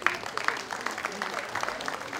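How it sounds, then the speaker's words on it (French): Applause for newly united couples at a union ceremony, a brief patter of clapping running under ongoing speech. "On les applaudit très fort ce moment."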